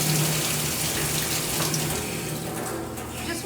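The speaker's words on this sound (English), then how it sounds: "So you can go ahead and use hot tap water." Hot tap water runs steadily from a faucet in a home kitchen during cinnamon roll dough preparation, a continuous close hiss with no speech.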